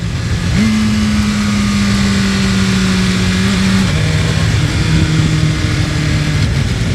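A BMW S1000RR motorcycle engine revs hard and steadily, its pitch climbing and holding, then dropping in short stepped blips from the auto-blipper on quick gear changes, loud and close throughout on back roads in Loudon, New Hampshire.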